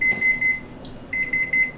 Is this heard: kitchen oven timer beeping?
yes